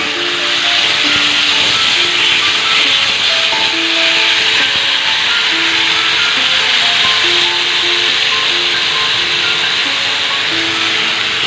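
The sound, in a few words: tomatoes sizzling as added to hot oil with five-spice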